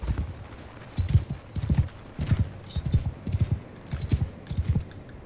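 Horse hooves clop in a steady galloping rhythm, close and clear, in the medieval battle video game Bannerlord, with faint neighing mixed in and no talk.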